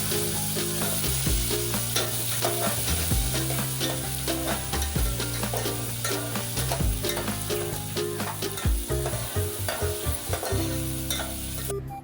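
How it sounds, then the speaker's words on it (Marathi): Potatoes sauté in a pan for fasting-day bhagar bhaat, a continuous close sizzle of frying broken by repeated scraping and clinking as a spoon stirs them. "आता त्यात बटाटे टाकून परतून घेऊया"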